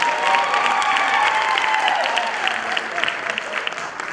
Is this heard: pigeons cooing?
no